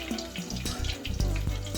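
Both hands dip into a bowl of water, making short, close splashes and drips in quick succession, with a brief sloshing burst toward the end.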